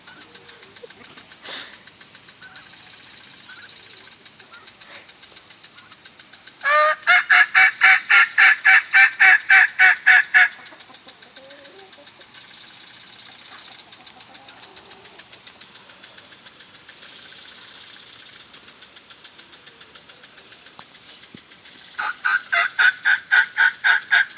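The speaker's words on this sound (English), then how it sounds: "It's the second time they've gobbled ever." Turkeys gobble in loud rattling bursts, one long burst early and another near the end, over steady outdoor background noise.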